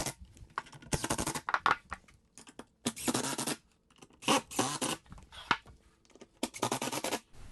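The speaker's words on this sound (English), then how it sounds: "the only thing left to do to finish this side up is to run those screws in" Screws being driven into a custom shutter frame mounted to a wall, heard as several separate bursts of drilling with pauses between them, close and fairly loud, with no talking.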